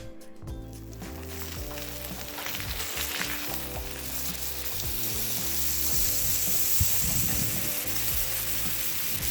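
Ribeye steaks sizzle loudly on a hot Blackstone griddle, a dense steady crackle with rhythmic mechanical clicking and hum layered underneath throughout.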